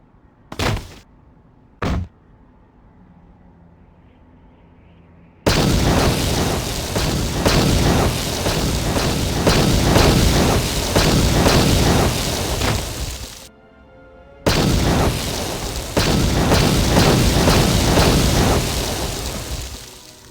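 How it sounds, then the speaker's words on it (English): A research complex in Star Wars: Knights of the Old Republic II explodes: a couple of sharp thumps over a low drone, then a loud, sustained roaring blast of rumble and debris that briefly drops out before roaring on. "When my heartbeat fails, this place shall explode"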